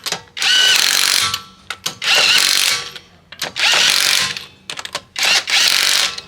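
A pneumatic impact wrench with a long-reach socket runs the wheel nuts back onto a 2012 Nissan Navara. It gives four loud, close bursts of rattling hammering, separated by short gaps with small clicks and knocks.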